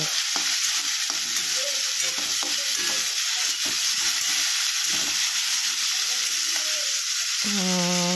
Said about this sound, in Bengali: এবার এই সবজিগুলোকে আগে একটু ভেজে নেব।